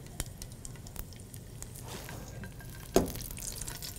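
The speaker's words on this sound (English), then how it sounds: "I'm just going to let that sizzle for just a minute" Crushed red pepper flakes fry in oil in a pan, giving a faint, steady sizzle with scattered soft pops and one sharper click partway through.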